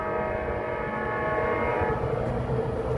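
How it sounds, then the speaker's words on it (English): An Amtrak Capitol Corridor train, number 737, arrives at Oakland Coliseum station with a steady loud rumble of wheels and engine throughout, its tonal hum layered over dense low-frequency roar. "approaching is Amtrak Capitol Corridor 737"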